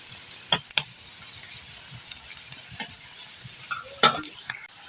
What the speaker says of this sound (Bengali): এভাবে পিঠেগুলো দিয়ে ভেজে নেব। দেখুন পিঠেগুলো এভাবে উল্টাইয়ে দিতে হবে।